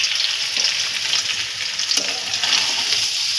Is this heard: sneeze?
no